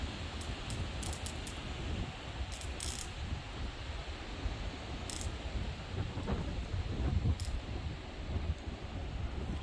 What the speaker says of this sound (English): There's now a little bit of thunder.